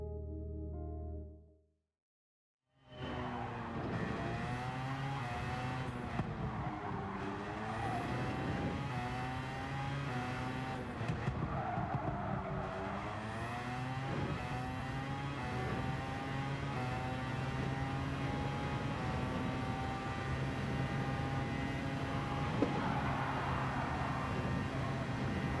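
A race car engine in a racing video game, RB Standard class, roars up after a short silence and holds a steady high drone with rising and falling pitch through gear changes and corners, tire noise underneath, no talking.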